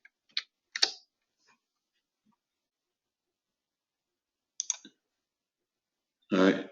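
Short bursts of computer keyboard typing with clicking keystrokes, clustered in a few brief groups separated by long quiet gaps, close and fairly faint.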